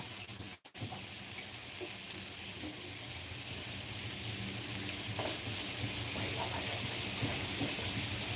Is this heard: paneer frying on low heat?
yes